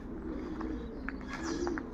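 Pigeons at a loft cooing softly in short, scattered calls, with low background noise underneath.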